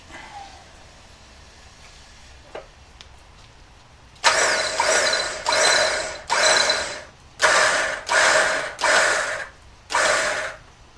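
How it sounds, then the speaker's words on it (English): A winch on a Jeep Wrangler JL runs in repeated bursts, about seven loud whining pulls with short pauses between them, close by, after a few seconds of quiet background; no one speaks. "The winch works."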